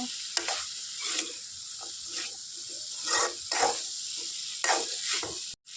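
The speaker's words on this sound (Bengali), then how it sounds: "গরম জল দিয়ে দিচ্ছি কিছুক্ষণ ঝাল করে নেব ঢাক্কন দিয়ে" Hot water poured into a pan of sizzling fish dal made with broad bean seeds, giving a steady frying hiss with several louder surging splashes and stirring scrapes, close and fairly loud, no voices.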